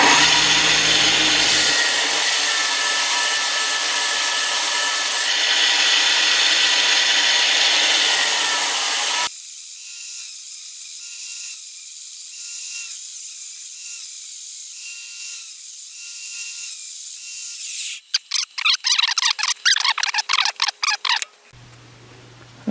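A belt sander smooths a wooden cross piece for a hillside cross, a loud, steady broadband grind that changes pitch and weight as pressure shifts, ending in choppy bursts as the tool is lifted and set down.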